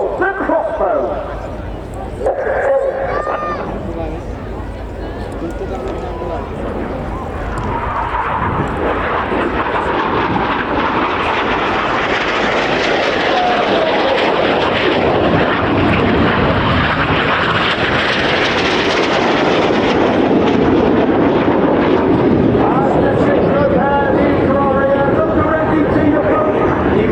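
Red Arrows synchro pair jets crossing at the RIAT airshow: jet roar builds from moderate to a loud, sustained broadband rush as the aircraft pass, with crowd chatter and a commentator's voice heard over it.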